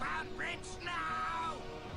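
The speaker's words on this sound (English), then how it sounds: "Apparently, Starscream quacks like a duck when he's frustrated." The cartoon robot Starscream lets out a few quick nasal duck-like quacks in frustration, loud and close over a busy soundtrack.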